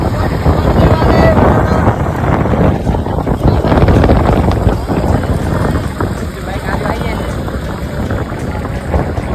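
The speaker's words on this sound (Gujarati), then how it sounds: "બાઇક આવે છે" Motorbikes roar loudly and steadily as they approach and pass on a road near the Varana fair in Gujarat, with heavy wind buffeting and people talking over the engines.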